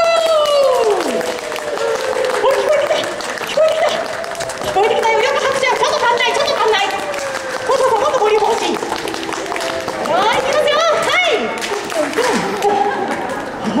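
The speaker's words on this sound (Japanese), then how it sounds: "もう一回皆さんで大きな拍手" An audience claps for the mascot Kumamon at a live stage event, with the clapping mixed with chatter and light laughter while a voice talks over the crowd.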